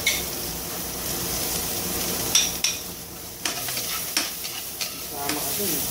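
Garlic sautéing in a pan sizzles steadily with a constant hiss, punctuated by sharp clicks and scrapes of a utensil stirring against the pan.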